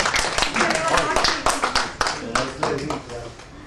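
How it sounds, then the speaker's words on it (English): Audience applause following a talk, a dense run of many hands clapping fairly close and steady for several seconds, with no break in the sound. "anyone who was sleeping can clap now"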